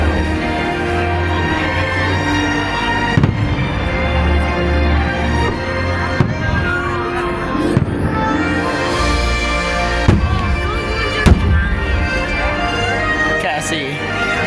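Fireworks bursting over the castle at Disney's Magic Kingdom, heard as dense, loud crowd-and-music ambience with several sharp distant booms and cracks at irregular intervals, while people talk nearby.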